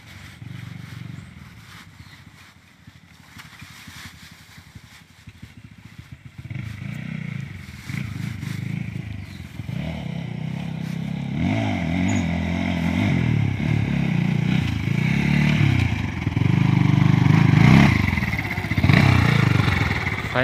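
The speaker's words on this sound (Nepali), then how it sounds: "हाम्रो टोलीहरूको अर्को बाइक नि आइपुग्यो है" A motorbike approaches over a rough, rocky dirt track on a hillside road, its engine growing steadily louder and rumbling with clattering and scraping as it nears.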